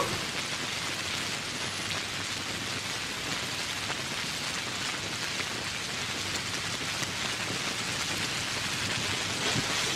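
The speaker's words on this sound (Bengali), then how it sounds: "আর এখনই বৃষ্টি আসলো।" Steady rain falling, an even, continuous hiss of drops on surfaces with no break throughout.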